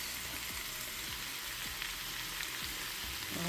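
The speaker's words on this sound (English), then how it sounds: "Let this cook with the curry powder first." Karela (bitter gourd) sizzles steadily with curry powder in a hot pan, with a continuous close frying hiss and occasional soft stirring sounds and no talking.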